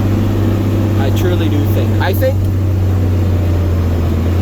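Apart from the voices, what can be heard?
John Deere 4960 tractor engine while chisel plowing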